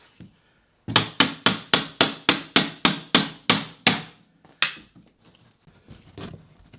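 Old skirting board being prised off a stone cottage bedroom wall gives about a dozen sharp, evenly spaced knocks in quick succession. One last louder strike follows after a pause, then quieter scraping and shuffling.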